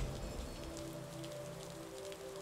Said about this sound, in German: Nicht umsonst regnet es hier so viel.